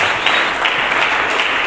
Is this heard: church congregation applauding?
yes